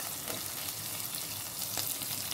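Mustard seeds, cumin and green chillies fry in hot oil, producing a steady close sizzle with faint crackles and light stirring scrapes throughout, no speech.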